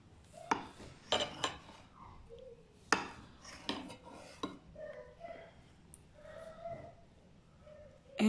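A knife slices a piece off a homemade yogurt cake, giving a few sharp clinks and taps against the plate with soft scraping between them, close up and fairly quiet.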